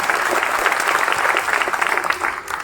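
A crowd gives loud, dense applause for prize-winning children at a public event, a sustained roar of clapping that holds steady and then eases slightly at the end.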